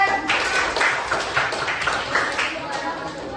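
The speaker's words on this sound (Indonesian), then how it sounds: "Tepuk tangan untuk kelompok 2." A classroom full of people clapping in a steady patter of applause for a student group's presentation, fairly close, with voices mixed in.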